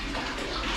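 Water gushes steadily out of an opened valve on a Grundfos CM3-5 1.5 HP water pump, a loud, close, continuous rush.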